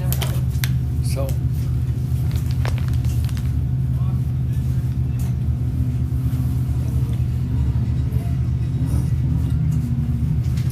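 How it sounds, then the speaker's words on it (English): A race car engine rumbles continuously through qualifying at the 2024 High Desert 100 in Powell, Wyoming, a loud low drone heard from nearby, with people talking over it. "This car sounds good"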